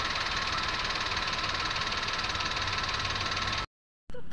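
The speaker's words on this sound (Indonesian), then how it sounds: "selanjutnya kita dengarkan pada kompresor bagian bawah" An Indonesian car's air conditioning compressor runs with a steady, rhythmic mechanical whir and knock, heard close up at the lower compressor, before cutting off abruptly near the end.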